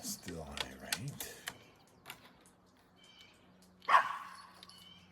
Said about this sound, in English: You don't need to bark.